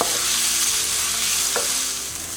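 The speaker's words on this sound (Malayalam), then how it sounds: "ഇതിലേക്ക് നമുക്ക് എടുത്തു വച്ചിരിക്കുന്ന ടൊമാറ്റോ ചേർത്ത് കൊടുക്കാം. ഇത് നന്നായിട്ട് വഴറ്റിയെടുക്കുക." Tomato sautéing with onion in a pan for egg dum biryani, a dense continuous sizzle with stirring scrapes and one sharper clack of the spoon partway through, close and with no talking.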